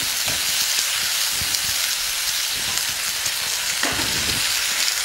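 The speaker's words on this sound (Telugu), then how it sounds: "ఇప్పుడు టమాటా ముక్కలు వేసుకుందాం." Tomato pieces with salt, turmeric and chili powder fry in a pan over fried onions for a tempered black chickpea gravy, giving a steady, close sizzle throughout with a few soft stirring knocks.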